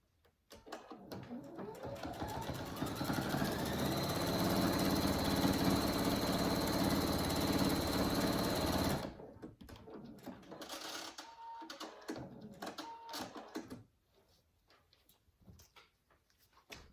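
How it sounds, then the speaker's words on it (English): A sewing machine whirs steadily for several seconds while stitching fabric pieces of an animal hammock together, then stops, leaving quieter handling clicks and rustles before near silence. "move it over to my sewing machine and sew it together"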